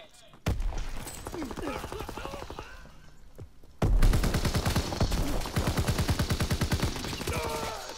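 Assault rifle fire in Call of Duty WW2, a Hardpoint match on the Occupation map: rapid automatic bursts, a sparse stretch, then a loud sustained volley running to the end, with a player talking over the shots.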